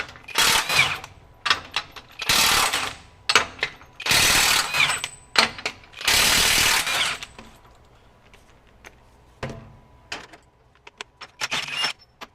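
Hercules HCB85B 20V brushless impact wrench running in reverse on a 5 Ah battery in power mode 3, giving several loud bursts of hammering rattle with short pauses between, then lighter intermittent clicks and taps.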